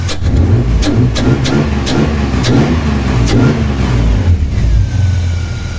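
Cold BMW M50 engine on Bosch J79S management revving repeatedly in quick rhythmic blips then settling to idle, loud and close, no talk.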